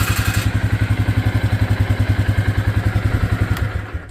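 A 2010 Polaris 400 AWD ATV engine runs steadily with a fast, even thumping beat, loud and close, with no other sounds.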